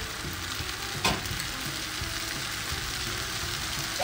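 Kung pao chicken sizzles loudly and steadily in a hot pan as sauce goes in, a dense continuous frying hiss with a brief sharper burst early on.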